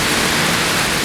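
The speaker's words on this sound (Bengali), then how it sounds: "তখন বৃষ্টি মুষলধারে পড়তে আরম্ভ করেছে।" Heavy rain pouring down as a sound effect in a Bengali radio drama, a dense steady hiss with no breaks, loud and close, and no voices over it.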